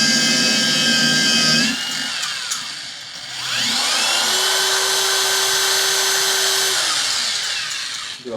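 A cordless brushless rotary polisher works a car's paint steadily, then spins down with a rising and falling whine and a gritty grinding as the motor stops, loud and close with no talk.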